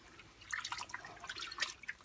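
Pickling solution dripping and trickling out of an animal skin during hide tanning, a quiet scatter of irregular close drips and small splashes with no talk.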